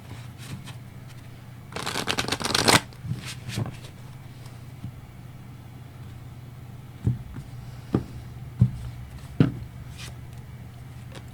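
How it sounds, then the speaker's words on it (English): Tarot cards being shuffled, a dense riffling burst followed by scattered single card taps and slaps, close and fairly quiet in a still room. "did I mix up all my damn cards again?"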